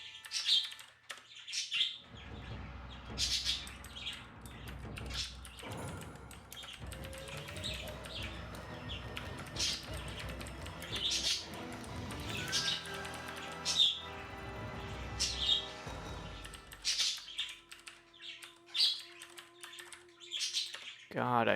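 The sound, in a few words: pet birds chirping loudly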